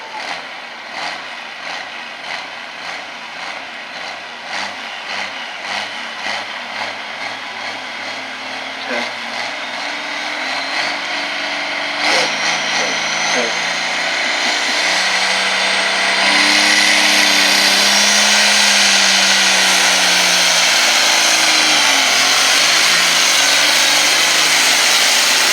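A tractor pulling down the track at a fair, its engine starting with a rough pulsing chug and building into a loud, sustained roar that fills the second half.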